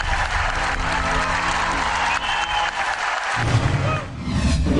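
A concert audience claps in a dense, continuous wash of applause that holds steady at full strength, with a faint tonal sound in the background early on.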